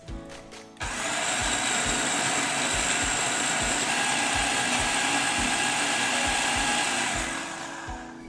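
A blender whirs steadily at full speed through vegan pesto ingredients such as basil leaves, coriander and roasted pumpkin and sunflower seeds, starting abruptly after a brief pause and running loud and continuous with a rhythmic low thumping of the jar contents.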